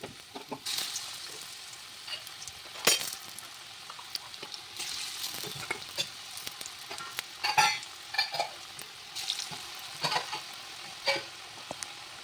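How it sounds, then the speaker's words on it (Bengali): Jackfruit seed fritters frying in hot oil in a kadai, a soft steady sizzle broken by louder bursts of spitting as pieces drop in and get stirred. "তেল গরম হলে একে একে বড়াগুলো দিয়ে দেবো"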